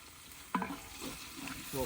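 A ladle stirs quail gravy in a pot, giving faint, short scraping strokes over a low simmering sizzle, with a couple of brief vocal sounds.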